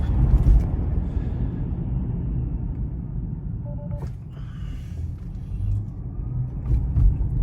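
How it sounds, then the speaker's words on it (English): A 2024 Tesla Model 3 Highland drives and brakes repeatedly while its brakes are being burnished, giving a steady, fairly loud low road rumble that holds throughout with small swells and no voices. "that's basically the brake burnishing procedure"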